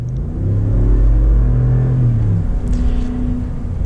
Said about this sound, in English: Now let's get a little acceleration with this limited black appearance group.